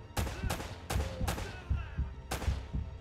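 Video game gunfire in Uncharted: a rapid series of five or six sharp, loud shots in an irregular rhythm, each with a short echoing tail, close and dominant with no talk over them.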